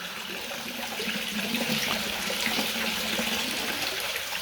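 Dirty water pours into a tank holding fish in a steady, close splashing rush that runs without a break and is fairly quiet overall.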